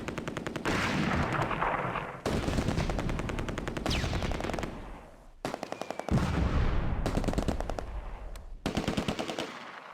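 Machine gun and rifle fire in the Close Combat A Bridge Too Far wargame near the Nijmegen bridge ramp, with repeated bursts of rapid, loud shots separated by short pauses and no talk.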